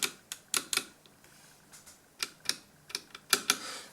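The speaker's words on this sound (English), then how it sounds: "there is a metallic bar beneath. It makes just a slight noise." Enter key on a Filco Majestouch 2 TKL keyboard with brown switches and a metallic stabilizer bar, pressed in a string of about a dozen close, sharp clacks with a faint metallic rattle, irregularly spaced with no talk.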